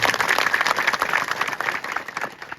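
Crowd of villagers, elders, youth and women at a constituency meeting breaks into loud, dense applause, steady clapping that holds for a few seconds and tapers slightly at the end.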